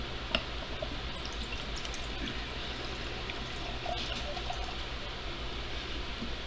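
Whiskey-smelling liquor pouring from a bottle, a steady continuous liquid stream under a low background hum, running evenly throughout with a brief tick near the start.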